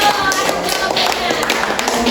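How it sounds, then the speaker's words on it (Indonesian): A classroom full of students claps for a presenting group, a brisk, fairly loud patter of many hands close by that runs for a couple of seconds. "tepuk tangan untuk kelompok 1"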